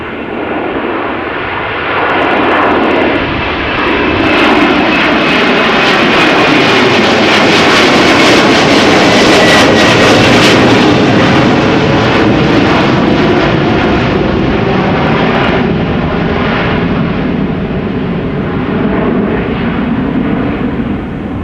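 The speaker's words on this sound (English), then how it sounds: "Next up, A350-1000 KLM flight 661 going to Houston, Texas." A KLM Airbus A350-1000 jet airliner, flight 661 to Houston, roars loudly past at windy Amsterdam Schiphol, swelling to a broad peak midway and then slowly receding, with no voices over it.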